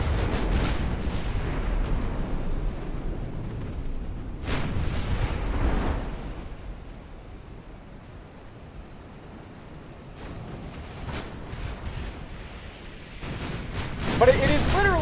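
In a naval war video game the ship Ringgold is sunk amid muffled explosions, several deep booming blasts and rumbling bursts rising and falling over about fifteen seconds, with a sharper crack near the end.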